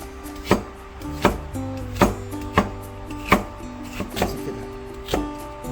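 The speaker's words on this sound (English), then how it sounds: "Slice the carrots." A knife slices carrots on a cutting board in about eight evenly spaced, crisp chops, each a sharp close thud against the board, with no talk.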